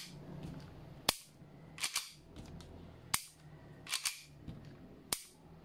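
A Jag Precision Pit Viper airsoft pistol is cocked and handled, giving sharp metallic clacks in irregular pairs and singles, close and fairly loud against a quiet background.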